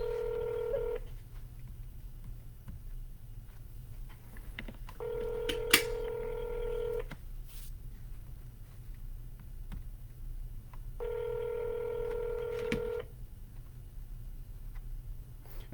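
Telephone dialing tones during real estate cold calling, three bursts of steady tones at a moderate level, each lasting one to two seconds, separated by quiet gaps over a low background hum.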